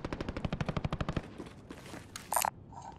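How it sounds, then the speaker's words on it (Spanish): Assault rifle in the video game Call of Duty: Modern Warfare, a fast burst of about fourteen loud rhythmic shots lasting just over a second, then trailing echo and a few sharp game sound effects. "Assault rifle."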